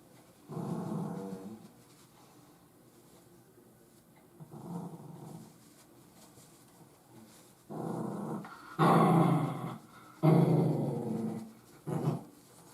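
A dog growls during a morning face wash, giving several low rumbling growls of a second or two each with quiet gaps, close and fairly soft, the later ones longer and stronger.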